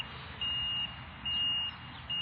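A personal alarm beeps in three regular bursts, each about half a second long, over a constant hum of background noise.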